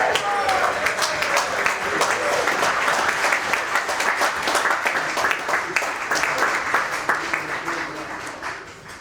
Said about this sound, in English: A round of applause for Madsen Pirie.